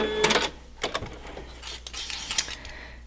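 Domestic sewing machine stitching across a seam allowance on quilt sashing strips, a quiet rattling mechanical burst, then short clicking pauses and a few lighter stitch runs at close range.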